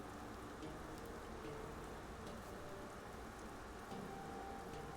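Soft, steady patter of rain falling over a neon-lit city district in the game Master Detective Archives: Rain Code, faint and continuous with scattered droplet ticks and no voices.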